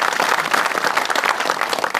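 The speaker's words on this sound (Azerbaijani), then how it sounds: "Gürültü alqışlar bizim dostumuzu." Loud applause from a studio audience at an Azerbaijani comedy show, dense steady clapping filling two seconds without pause.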